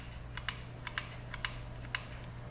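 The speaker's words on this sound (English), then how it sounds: "You can hear it clicking." A small engine's compression release clicks at a steady beat of about two per second, faint sharp ticks over a low constant hum.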